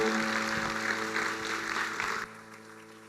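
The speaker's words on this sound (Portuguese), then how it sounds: "Uma salva de palmas." Wedding guests applauding at a church ceremony right after the couple is declared married, a busy patter of clapping over a sustained musical drone, cutting off sharply near the end while the music lingers.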